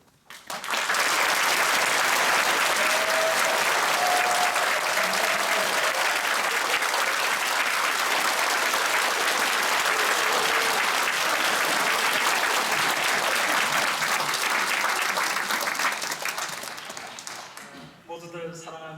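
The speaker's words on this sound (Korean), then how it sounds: "트리플 박수, 트리플 아시죠? 3배 박수 해주시는데" A church congregation bursting into sustained, enthusiastic applause, dense clapping from a large crowd filling the room for about sixteen seconds before tapering off into a few scattered claps and a voice.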